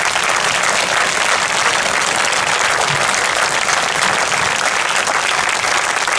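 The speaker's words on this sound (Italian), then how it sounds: "lo facciamo un applauso a tutti questi artisti" Audience applause for the performing artists at a music event, loud, dense and sustained clapping that fills the whole stretch without voices.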